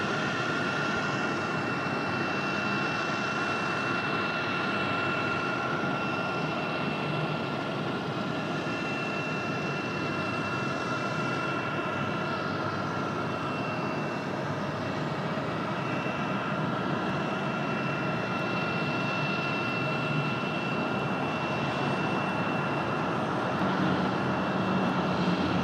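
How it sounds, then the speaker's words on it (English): A 33-year-old Mountain Air Cargo ATR turboprop landing on runway 5 right at Raleigh Durham, with a steady droning engine and propeller roar that holds throughout, heard from a distance without voices. "Little bounce for the ATR. Runway 5 right, clear to land"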